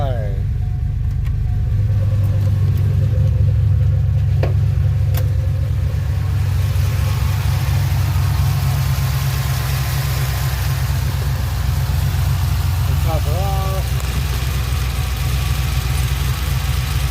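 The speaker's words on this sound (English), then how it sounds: "So I'm gonna try to start her up again." A 2007 Pontiac Grand Prix GXP engine turns over and settles into a steady, loud idle, a low rumble that carries on throughout, close by, with a brief whine partway through.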